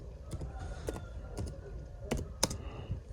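Fingers type on a keyboard to enter text in Google Sheets, producing a few light, scattered key taps at an uneven pace, close and fairly quiet over faint background noise.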